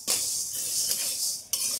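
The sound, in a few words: stirring mashkolai dal frying in a pan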